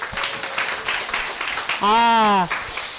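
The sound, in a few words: audience clapping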